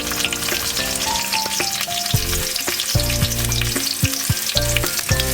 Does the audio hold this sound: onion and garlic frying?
yes